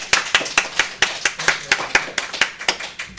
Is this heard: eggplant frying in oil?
no